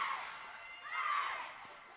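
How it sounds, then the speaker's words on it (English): A group of girls shouting a cheer together at a tournament game, their high voices rising in two swells, fairly soft and a little distant. "nice cheer there by the girls."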